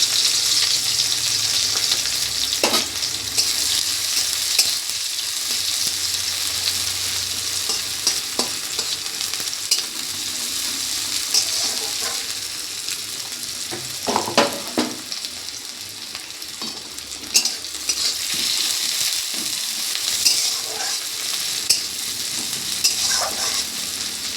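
Onions frying in hot oil, a loud, constant crackling sizzle lasting throughout, broken by intermittent spatula scrapes and stirring knocks.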